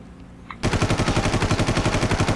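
Automatic weapon in Far Cry firing a rapid, loud, evenly spaced burst that starts abruptly after a brief quiet moment and continues without pause.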